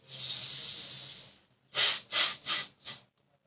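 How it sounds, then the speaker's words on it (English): A person breathes through the nose during a meditation breathing exercise: one long, steady hissing exhale, then a short pause and four quick, sharp nasal breaths in a row, close and clear with no talking. "Inhale from one nostril, exhale through opposite nostril."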